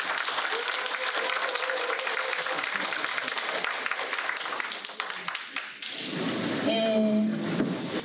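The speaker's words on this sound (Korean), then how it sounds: "송 교수님께 박수 한번 주십시오." Audience applause for Professor Song at a tea culture academic conference, a dense sustained clatter of many hands that thins out around the six-second mark as other room sounds and a tonal chime come through.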